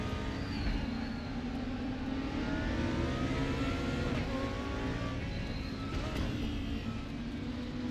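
A GT2 race car in a racing sim lapping the Nordschleife. The engine holds a steady, continuous drone throughout, close and even in loudness, with no clear gear changes.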